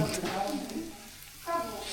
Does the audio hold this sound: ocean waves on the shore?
no